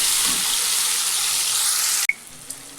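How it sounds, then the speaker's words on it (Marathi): Tomato dropped into hot oil fries with a loud, dense sizzle close up that cuts off abruptly, leaving faint ticks and small clanks, no speech. "आता तेल तापलं आहे आपलं त्याच्यात एक टमाटं टाकून घेतलं मला थोडंसं भाजू द्यायचं"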